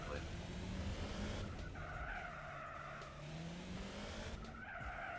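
A race car in Gran Turismo 4 runs under a constant engine roar, with tyres skidding and squealing in long, shifting whines.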